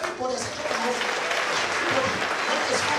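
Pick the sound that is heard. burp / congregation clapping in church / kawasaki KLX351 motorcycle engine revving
congregation clapping in church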